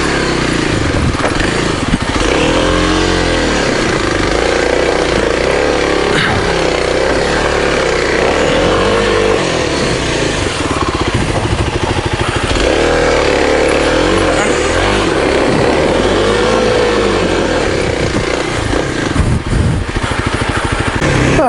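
A 2023 Kawasaki KLX 300DS dual-sport motorcycle climbs a steep off-road hill, its engine droning loud and unbroken, rising and falling with throttle under heavy wind rush the whole way.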